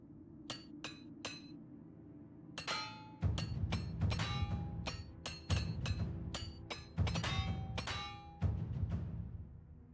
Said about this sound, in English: Use a repair hammer to fix my damn bow.